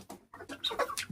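Chickens cluck close by in short, choppy bursts over about a second, with no talk over them.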